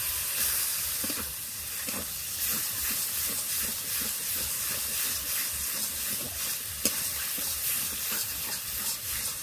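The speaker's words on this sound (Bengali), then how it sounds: "এবার দিয়ে দেবো বেটে রাখা পালং শাক।" Ground spinach goes into spice paste frying in a pan in a Bengali prawn and spinach dish, giving a steady, even hiss and sizzle throughout, with a few faint clinks and no voices.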